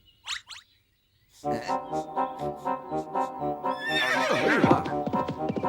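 A horse neighs loudly in a long, shaking whinny after a short high squeal and a pause, close and clear.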